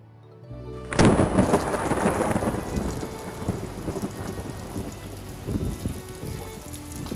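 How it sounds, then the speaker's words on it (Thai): Heavy rain pours steadily in an outdoor setting in Ayutthaya, with a loud thunder crash opening near the start and low rumbles rolling beneath the constant downpour, no voices present. "ฝนตก ฝนตก"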